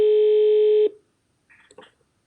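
During a live radio broadcast, a telephone tone on a call line sounds as one loud sustained beep, then stops abruptly, followed by brief faint rustling and clicks.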